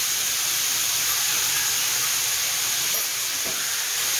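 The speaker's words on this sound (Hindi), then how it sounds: "इसको हाई फ्लेम पे जो है वो स्टर फ्राई करेंगे सिर्फ 2 मिनट के लिए" Vegetables and sweet corn stir-frying in a pan on high flame, a loud, continuous bright hiss and sizzle that stays steady from start to finish with no talking over it.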